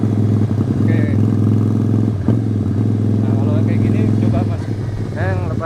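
Manual-clutch motorcycle running in second gear with the rider aboard, a steady low engine drone held at an even pitch close by, with people talking over it near the end.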